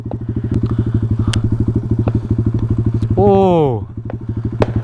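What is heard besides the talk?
pit bike engine riding at night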